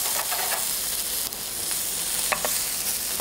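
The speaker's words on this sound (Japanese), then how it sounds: "油をかけてじんわりと焼き上げます" Steak frying in butter and oil in a round pan over medium-low heat, with fat spooned over it: a steady close sizzle that holds from start to finish, with occasional brief pops and crackles.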